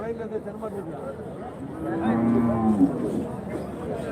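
Cattle low at the Friday weekly livestock market in Kundarapalli, Krishnagiri district, with one clear, drawn-out moo rising out of the busy crowd noise and nearby voices.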